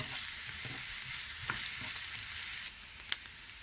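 Half a diced onion sweating in a pan, a faint steady sizzle with occasional light spatula scrapes and a sharp clink near the end, quiet and close.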